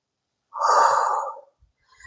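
A single deep exhale during a yoga-style breathing exercise, a soft breathy rush lasting about a second, close and clear, followed by near silence.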